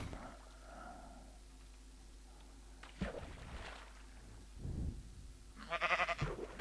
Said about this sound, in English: Pardon the noise outside, that being sheep.